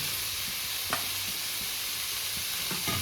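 Fried potato and eggplant are stirred into mustard greens with white sesame seeds, a soft, steady sizzle with light spatula taps recurring every half second or so, close and without speech.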